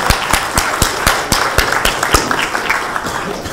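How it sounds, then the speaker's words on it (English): Steady, crisp claps from a small audience at a memory-technique workshop, ringing out close and evenly at a quick regular rhythm, then thinning slightly toward the end. "A round of applause, I'd say"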